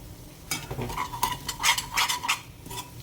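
Ingredients for mango rice sauté in a pan with fenugreek, asafoetida and salt, as a spoon stirs and scrapes against the metal in irregular clinks over a soft sizzle, with no one speaking.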